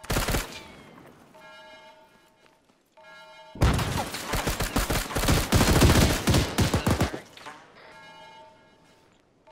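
Rapid bursts of rifle and automatic gunfire in the military shooter ArmA 3, a loud dense fusillade in the middle stretch framed by quieter passages with voices talking over radio.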